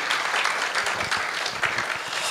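An audience at a business presentation breaks into steady applause, many hands clapping in a dense, continuous burst with little else heard.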